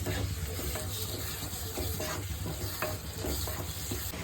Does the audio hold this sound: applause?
no